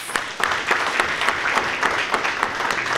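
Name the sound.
applause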